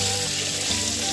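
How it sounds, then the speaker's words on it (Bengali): Fish pieces frying in a pan give off a steady, close, even sizzle that sounds almost like running water, a continuous hiss with a faint low hum underneath. "মাছ প্রথমে ভালো করে কষিয়ে ভাজা হচ্ছে"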